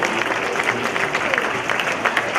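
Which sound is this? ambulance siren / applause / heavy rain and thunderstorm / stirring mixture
applause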